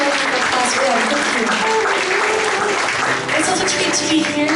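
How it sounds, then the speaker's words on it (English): A folk club concert audience in Lethbridge applauds for the evening's sponsors, a full, even wash of clapping with faint voices mixed in underneath. "Please, give them more of a applause for them."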